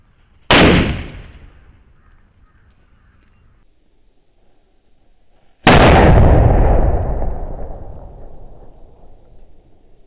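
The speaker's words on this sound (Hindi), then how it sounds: "सबसे बड़ा धमाका इसका ही हुआ आखिर में। नाम क्या है? सुतली बम।" Two loud sutli bomb firecracker blasts outdoors, a sharp bang followed by a long rumbling decay about five seconds later, with quiet between.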